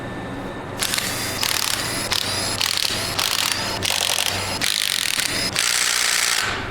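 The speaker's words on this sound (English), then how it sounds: "I could probably run these out with the impact" Impact wrench running out bolts on a 12 valve Cummins cylinder head, firing in about seven rapid hammering bursts close up, separated by short gaps.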